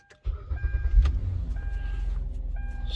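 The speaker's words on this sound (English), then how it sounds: "Starts the car." Car engine starting with a newly programmed key, a locksmith's job: a brief cranking burst followed by a steady low idle rumble, close and continuous, with no talk.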